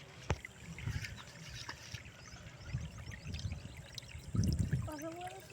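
Water pours and trickles in uneven splashes close by as sand is washed for a homemade water purifier, with a louder gush near the end and a brief faint voice.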